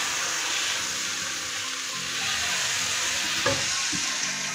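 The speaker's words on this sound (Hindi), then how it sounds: "और मसाले को करते हैं अच्छे से करेलों में मिक्स।" Spice masala is stirred into bitter gourd and onion with a splash of water in a frying pan, giving a steady close sizzle with a few brief scraping knocks of the spoon.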